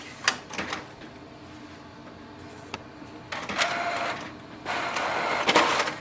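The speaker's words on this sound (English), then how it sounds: "Press OK to print the nozzle check sheet." A Canon Pixma G5020 inkjet printer running off a nozzle check sheet: mechanical whirring and feeding with short clunks and carriage passes, moderately loud and close, no voices.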